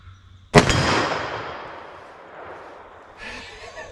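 A .44 Magnum Buffalo Bore lower-recoil round fired into ballistic gel: one loud, sharp close-range report with a long reverberant tail fading over several seconds.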